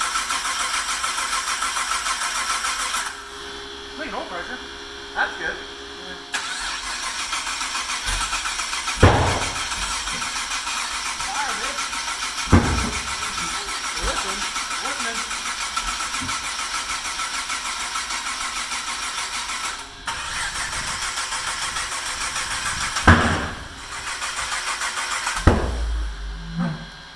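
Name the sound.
engine cranking and starting after priming fuel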